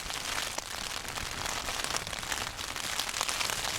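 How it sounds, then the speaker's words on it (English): Steady rain patters on a tent during a wild camping trip at Angle Tarn, an even, close hiss of drops that never lets up from start to end. "As you can hear, the forecast rain is here."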